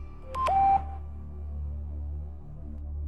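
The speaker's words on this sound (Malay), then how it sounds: "Sekali lagi kedengaran isyarat mesej masuk." A phone chimes with an incoming message alert, a short bright rising tone heard once up close, followed by a quiet low hum.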